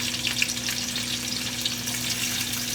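Chopped onion frying in olive oil in a pan for a Portuguese chicken and green bean stew, heard as a dense, even, close-up sizzle with a low steady hum beneath.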